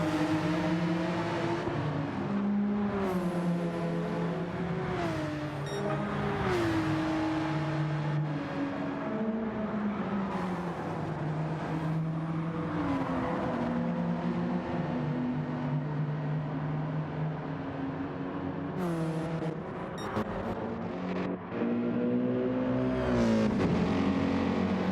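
Gr3 race cars in a video game at Goodwood, including an Alfa 4C and an old Porsche, engines droning continuously with repeated revving rises and gear-shift drops as cars pass, loud and sustained without talk.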